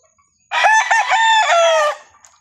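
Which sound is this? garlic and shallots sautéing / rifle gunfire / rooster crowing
rooster crowing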